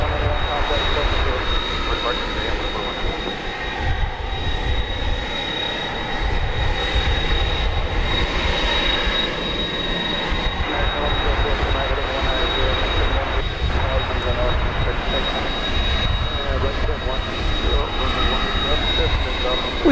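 Boeing 727 trijet engines at DFW Airport, a continuous broadband jet roar with a steady high whine, loud and sustained throughout, mixed with background chatter and voices.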